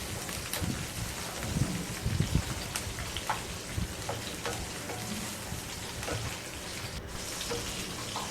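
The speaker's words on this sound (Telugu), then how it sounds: "వేసి పచ్చిమిరకాయలు కూడా ఫ్రై చేసుకోవాలి." Green chillies fry in hot oil in a pan, a soft steady sizzle with scattered pops and crackles running throughout at moderate volume, no voices.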